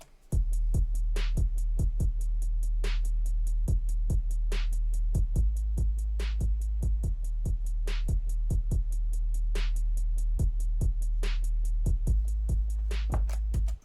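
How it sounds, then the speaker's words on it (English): A programmed drum beat plays alone: deep repeated kicks, sharp snare hits at regular intervals and a steady ticking hi-hat in a two-step pattern, looping evenly throughout. "So by themselves, the drums sound like this."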